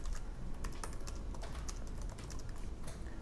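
Typing on the keyboard of a new Surface Book 3 laptop, a steady patter of soft, quick keystrokes at close range with a few slightly louder clicks, and no voices.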